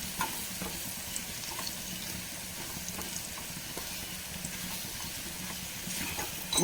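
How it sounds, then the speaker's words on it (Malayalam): Dates sautéing with salt in a pan for a lemon, date and garlic pickle, giving a soft continuous sizzle and gentle stirring scrapes at close range, with faint taps scattered throughout. "ഉപ്പും കൂടി ചേർത്ത് വഴറ്റുമ്പോൾ ഈന്തപ്പഴം നന്നായിട്ട് ഒന്നുകൂടി സോഫ്റ്റായിട്ട് വരും"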